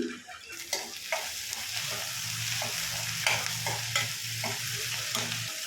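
Onion chutney ingredients with salt fry in a pan, a steady close sizzle broken by regular scraping and stirring strokes from a spatula, with no voices.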